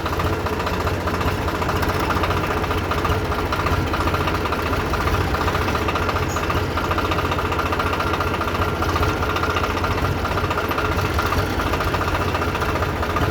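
A heavy diesel tractor engine idles in a steady, throbbing rumble with a rough knocking texture, continuous and close, with no speech.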